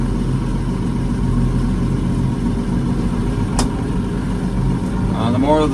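A multi-power tractor engine runs steadily at a low, even drone, close and continuous throughout, with a brief squeak partway through and a voice coming in near the end.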